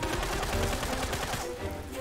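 Guns fired by units in the video game Tooth and Tail, a rapid continuous burst of machine-gun-like shots that rattles for about two seconds, easing slightly near the end.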